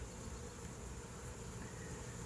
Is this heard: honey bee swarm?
yes